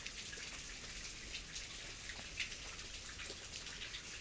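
Light rain after a thunderstorm in Tulsa, Oklahoma: faint, steady patter and scattered drips on surfaces, even and continuous with no voices.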